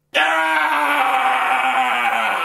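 A film character lets out a scream of rage, a sustained, strained vocal cry that starts abruptly and holds loud and steady for over two seconds.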